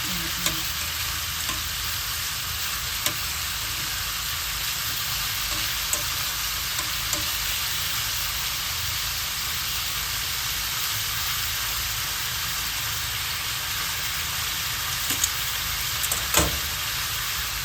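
Pork adobo fries in oil in a pan with a loud, continuous sizzle, punctuated by a few faint clicks of utensils.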